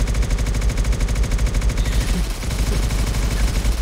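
Rapid automatic gunfire in Arma 3 aimed at a landing transport aircraft, a loud, dense, continuous stream of shots close by that keeps going from start to finish.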